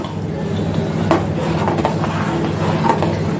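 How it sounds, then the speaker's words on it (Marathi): Chicken in a dark ground masala simmers and is stirred in a pot, giving a steady bubbling hiss with a few light scrapes and clinks of the spoon against the metal. "परतून घेते."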